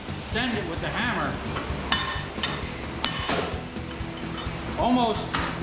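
Metal hammer blows strike transformers pulled from commercial lighting fixtures to free the copper, giving sharp clinks and knocks at a steady working pace, close and loud, while someone talks over them.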